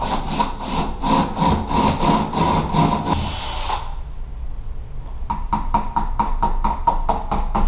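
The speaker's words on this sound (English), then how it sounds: "And we'll go ahead and drill." A power drill bores holes into a wall to mount a smoke detector backing plate, giving rapid pulsing bursts of grinding whir, a short pause, then another run of pulsed drilling close by.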